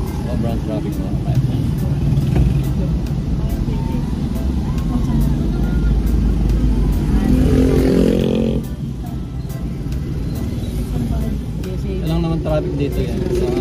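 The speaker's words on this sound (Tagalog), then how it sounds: "Sobrang traffic mga kamay-friend." Heavy rush hour road traffic with cars and motorcycles keeps up a loud, steady engine drone with a vehicle surging past, while someone talks over it.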